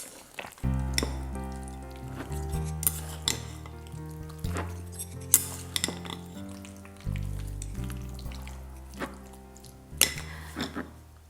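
Japchae glass noodles are tossed with chili flakes, pepper and garlic, giving soft, irregular stirring rustles and light clinks under quiet background music.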